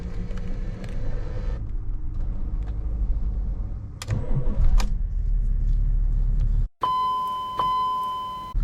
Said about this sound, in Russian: И запускаем автомобиль.